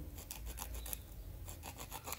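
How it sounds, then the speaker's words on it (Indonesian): Soft, rhythmic rasping strokes of sandpaper rubbing a small surface on a rubber-powered model airplane part, close and quiet, repeating in quick back-and-forth passes. "amplas bagian luar"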